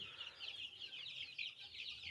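Chickens cluck steadily in a dense, overlapping chorus, a busy flock close by with no pauses.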